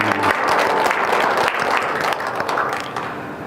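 A church congregation at a Korean communion Sunday service breaks into dense, sustained applause that fills the whole moment at a steady, loud level before tapering slightly.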